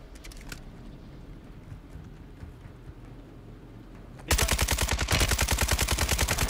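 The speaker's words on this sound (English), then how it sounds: "Started shooting at the same time. That sounded cool." Video game gunfire: quiet background game noise and faint shots, then a loud, rapid automatic burst erupts and continues steadily to the end, close and dominant.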